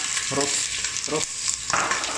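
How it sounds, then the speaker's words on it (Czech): Frozen leek added to a pot with ginger for a spicy carrot soup, a loud continuous sizzle and spatter close up with a few bursts of stirring scrapes. "teďka přidáme ten porek, který je zmrzlej ještě teďka"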